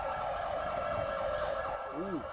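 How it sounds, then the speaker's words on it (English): A police siren in the FiveM video game sounds a fairly faint, continuous wail that sweeps up and down, then switches briefly to a faster yelp near the end over a low engine drone. "I'm just gonna get a siren check done on the perimeter here."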